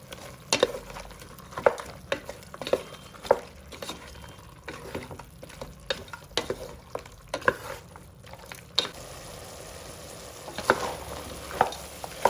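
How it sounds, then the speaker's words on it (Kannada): Mutton frying in a pan with ginger-garlic paste for a mutton curry: a constant sizzle broken by repeated sharp spatula scrapes and knocks at an irregular rhythm, close and fairly loud, with no talking. "ಮಟನ್ ಸ್ವಲ್ಪ ಫ್ರೈ ಆದಮೇಲೆ ಶುಂಠಿ ಬೆಳ್ಳಿ ಪೇಸ್ಟ್ ಹಾಕ್ತಾ ಇದ್ದೀನಿ"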